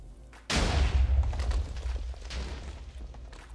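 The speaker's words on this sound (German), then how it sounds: "ganz knapp vor deiner Kanone hochgegangen" An explosion goes off near a cannon in a pirate battle video game, a sudden loud boom followed by a deep, rumbling roar that slowly fades over several seconds.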